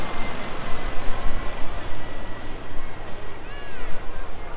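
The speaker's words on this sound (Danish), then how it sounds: "nu kommer han ind over taxiområdet og lægger an til landing i den sydlige ende af Blokhus Fly-In" Propeller airplane approaching to land at the Blokhus Fly-In, its steady engine drone filling the air amid broadband wind and crowd noise, holding a fairly constant loudness throughout.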